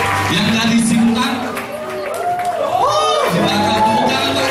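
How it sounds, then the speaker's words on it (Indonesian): Congregation applause at a worship service, continuous crowd clapping and cheering with shouts and a loud voice over it, music tones weaving underneath. "Di belakang, tepuk tangan bagi Sintang."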